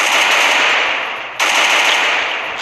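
Automatic gunfire in a battle royale video game rattles in loud, sustained bursts, with a brief break near the middle before the firing resumes.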